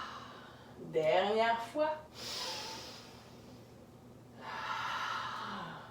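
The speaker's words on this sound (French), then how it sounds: "Inspire ici. Expire, ouvre. Inspire." Audible breaths in and out during a guided yoga exercise, a sharp inhale followed by slow sighing exhales, close to the microphone, with an instructor's voice speaking briefly in French.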